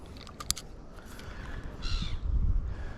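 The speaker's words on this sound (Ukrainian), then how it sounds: "Чайки прилетіли." Birds cry out over water at a fishing spot, with sharp bursts of calls early and a harsher cluster of calls later, set against steady wind and water noise.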